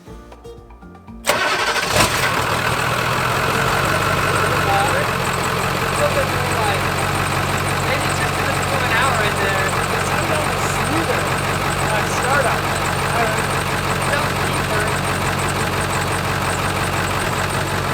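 A shuttle bus engine with rerouted exhaust starts up and settles into a steady, loud, deep idle that runs on close by, with no break in the rumble.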